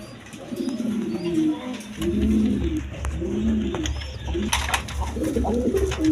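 Fancy pigeons at a market stall coo in soft, repeated low phrases, and someone talks nearby.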